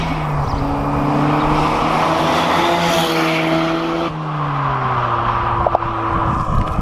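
A Mazda FC RX7 with a rotary engine drives along, its steady engine note rising and falling through gear changes, continuous and fairly loud with road and wind noise throughout.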